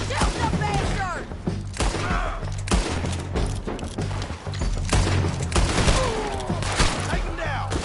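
Dense, loud gunfire rattles through a Red Dead Redemption 2 shootout on a bridge, with rapid overlapping shots and booms nearly continuous, while voices shout over the barrage.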